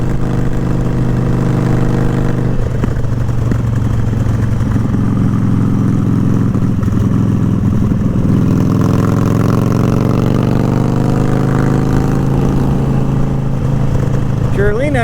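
A sport bike's engine rumbles with a deep, steady idle close by, then revs climb and rise in pitch through the second half, keeping up an uninterrupted growl.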